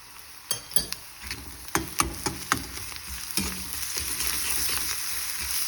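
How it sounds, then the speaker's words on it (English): Ginger garlic paste sautés in a pan for a shrimp curry, opening with a series of sharp spoon clinks and stirring scrapes, then settling into a steady, bright sizzle that grows toward the end. "Let it saute a little more."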